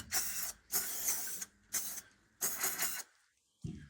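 Four short bursts of aerosol gun maintenance oil spray hiss during cleaning of a Glock 45 pistol, each about half a second long, with a brief pause between them, followed by a faint clunk at the end.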